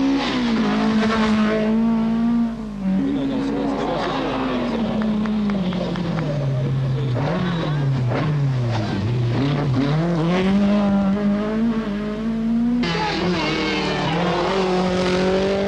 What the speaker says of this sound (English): Lancia number 4 is a jolly club car for Vuda Fieri, followed by a flamboyant Tony Pond and his Nissan 240 RS